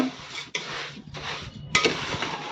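Sugar syrup for lemon pickle being stirred in a pan, a few close scraping and rubbing strokes of a spoon against the metal, separated by short pauses.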